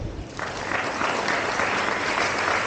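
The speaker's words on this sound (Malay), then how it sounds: "bagi tepukan" Audience at a school student leaders' commissioning and SPM excellence ceremony breaks into applause, rising quickly into a full, sustained wash of clapping that fills the hall.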